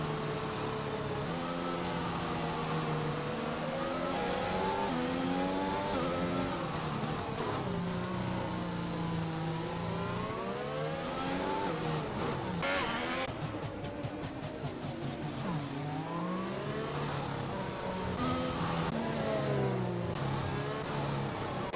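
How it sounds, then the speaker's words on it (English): Race car engines in a racing video game at the Monaco street circuit, howling and revving continuously, pitch sweeping up and down through gear changes, loud and steady with no talk. "As Dave Ewart now has finally officially completed an overtake on CBTX Mask."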